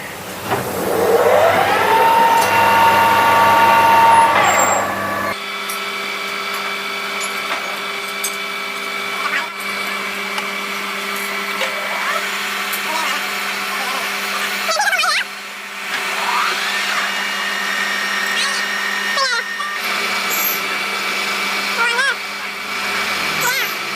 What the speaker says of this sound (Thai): เจาะเพื่อไปเป็นรู